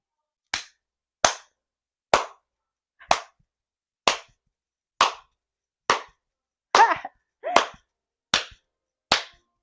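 About a dozen separate hand claps ring out one at a time at a slow, slightly uneven pace, sharp and close with silence between them.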